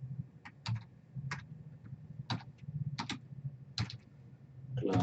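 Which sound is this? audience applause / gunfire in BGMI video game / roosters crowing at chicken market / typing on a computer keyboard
typing on a computer keyboard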